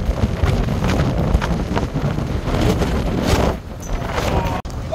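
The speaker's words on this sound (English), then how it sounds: "there's so much dang wind, it's literally pushing us backwards" Strong wind buffets a boat on a cold day, a constant loud roar with gusting pressure against the microphone, steady for several seconds with a brief lull near the end.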